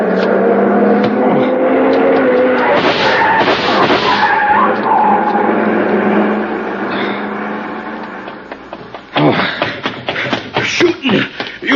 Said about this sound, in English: See the car, the one that just gunned out.